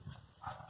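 A dog gives one short, fairly faint bark in the background near a Toyota 4Runner being worked on.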